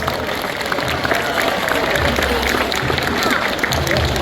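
Applause from an audience at a tiger show at Dreamworld on the Gold Coast, as a big tiger rears into a fight stance. Steady, dense clapping runs throughout with crowd noise, fairly loud and continuous.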